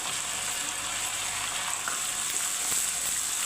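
Spices fry gently on a low gas flame for moong dal cooked with fish head, giving a soft, even sizzle with a faint stir or two.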